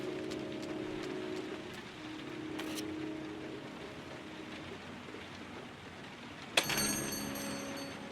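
Rain falling in the video game Heavy Rain, a soft, steady hiss of drizzle spread evenly throughout with faint music tones underneath and a sharp bright accent near the end.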